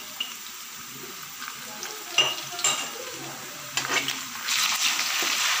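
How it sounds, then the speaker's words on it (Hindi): Garlic ginger paste frying in a pan with browned onions, a soft continuous sizzle with scattered stirring scrapes that swells into a louder hiss toward the end. "बस प्याज ब्राउन हो चुकी है, सबसे पहले हम इसमें लहसुन अदरक का पेस्ट डालेंगे।"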